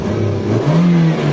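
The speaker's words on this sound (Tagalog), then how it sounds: "pakinggan natin yung yung makina" A Toyota GLI big-body sedan with an idle problem: its engine hums low at idle, then rises briefly in a short rev before settling into a steady, slightly higher drone, close and loud, with no talking.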